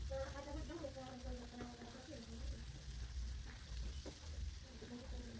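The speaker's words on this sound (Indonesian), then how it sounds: "Nah ini bumbunya kita tumis ya sampai benar-benar matang," Spice paste for Javanese fried noodles stir-fried in a pan, a steady close sizzle and crackle with scraping stirs, while someone speaks over it.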